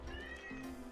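A house cat, an unneutered male, lets out one drawn-out, wavering meow close by, with a second rising tone near its end.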